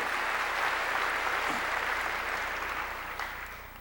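A church congregation breaks into sustained applause during a sermon, a dense, steady wash of many hands clapping that fills the room and eases off slightly toward the end.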